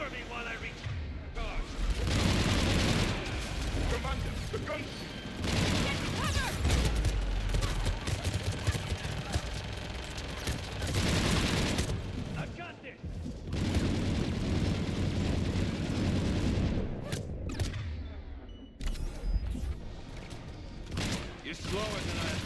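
Sustained gunfire and heavy blasts in the Mass Effect 3 video game, a dense loud barrage with brief lulls, mixed with game voices and combat effects as a gunship moves in.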